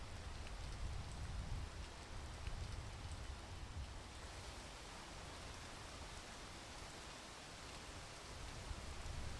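Steady rain falls continuously, a dense, even hiss of drops on surfaces that stays level and close throughout, with no voices.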